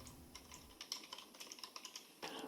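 Fingers tap quickly and steadily on a computer keyboard, a close run of light clicks with a few louder keystrokes, faint and without talk.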